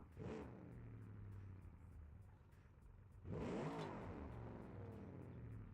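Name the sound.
Automation engine sound of a car in BeamNG.Drive video game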